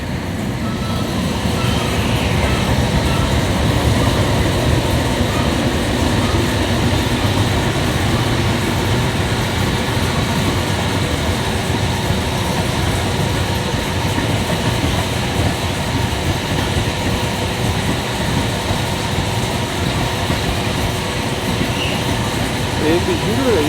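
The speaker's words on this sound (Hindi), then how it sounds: "खूबसूरत ट्रैक साउंड।" The Jaffar Express, led by a G20 locomotive, runs along the railway track at Bahawalpur station in Pakistan, giving a continuous loud rolling roar with steady wheel clatter on the rails, sustained and close the whole time.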